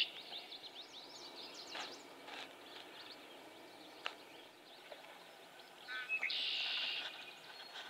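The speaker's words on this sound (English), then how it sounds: "There's a lot of hidden birds out here." Hidden birds call from a quiet marsh, giving scattered short chirps and tweets at a moderate distance, then a brighter, sustained trill near the end over faint background hiss.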